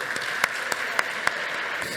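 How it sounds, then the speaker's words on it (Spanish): Applause at a Spanish youth entrepreneurship event: a short, moderate round of clapping from an audience, with a few sharper claps standing out. "Un fuerte aplauso para ellos."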